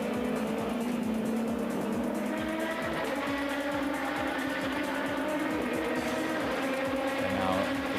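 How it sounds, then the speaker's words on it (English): Racing cars, a new Honda NSX among them, roar steadily down the home straight at a Honda Racing Thanks Day event, their engine drone loud and continuous throughout with no gaps. "Five cars heading back to the home straight. We see all those new sounds."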